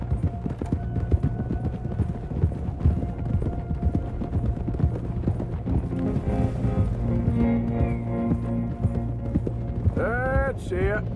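Horse hooves clip-clop steadily across open ground in Red Dead Redemption 2, a continuous rhythmic gait heard over a low game soundtrack, with a brief whinny-like call near the end.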